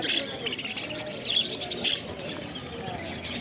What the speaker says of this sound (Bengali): এখানে যে বদ্যি পাখিগুলো আছে